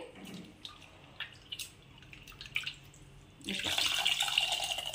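Faint clinks and drips give way to a steady gush of water poured into a pot for tomato pepper rasam during the final second or so.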